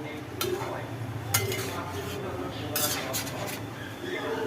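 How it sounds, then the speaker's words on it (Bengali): A spoon scrapes and clinks against a cooking pot as a hilsa fish curry with potato, raw banana, radhuni and mustard paste is stirred, with intermittent metallic taps over a low simmer. "রাঁধুনি আর সর্ষে বাটা এটার সঙ্গে ভালো করে মিশিয়ে নিয়ে নামিয়ে নেওয়া হবে"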